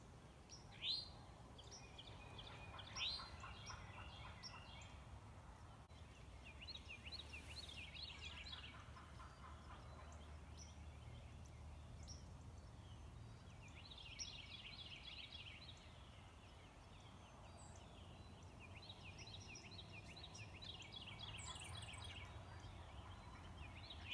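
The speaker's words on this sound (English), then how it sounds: "there were hens going crazy, toms going crazy, just gobbling at the" Wild turkey hens and toms gobbling and calling from the roost on an opening-weekend Georgia morning, with repeated gobbles and yelps at moderate distance over steady low rumble and scattered bird chirps.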